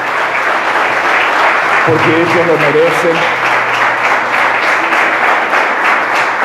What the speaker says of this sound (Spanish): me gustaría pedir un aplauso también para los jóvenes